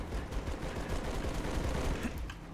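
Assault rifle fire in Halo Reach, a dense, continuous burst of rapid automatic shots lasting the whole moment, loud and close.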